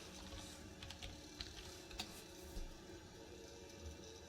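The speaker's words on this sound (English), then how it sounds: "we'll type in Thanos" Faint, quick clicks of a computer keyboard as a search term is typed into a 3D-model website, soft and close in an otherwise quiet room.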